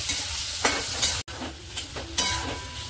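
Taro pieces with turmeric fry in a pan under a constant hiss, broken by several soft spatula stirs and one brief cut-out; no voices.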